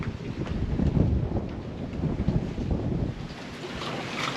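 Wind gusts and sea wash around a sailboat under a partly furled genoa in calm, island-sheltered water, a loud continuous rumbling rush buffeting the microphone throughout.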